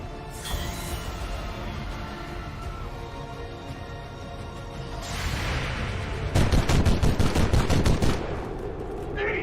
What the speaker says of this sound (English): Bolt gun!